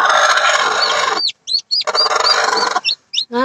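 A mother hen with newly hatched chicks clucks loudly and close, in dense rapid bursts broken by short pauses, with high thin chick peeps poking through the gaps.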